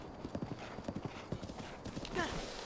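Horse hooves clip-clop in a steady gallop in The Legend of Zelda: Breath of the Wild, ending in a brief whinny, with a player's voice talking over it.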